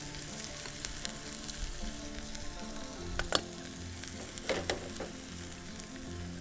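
A plant-based vegetarian burger patty fries slowly in a pan, giving a continuous close sizzle and crackle with occasional louder pops and spatula scrapes near the middle and end, and no voices.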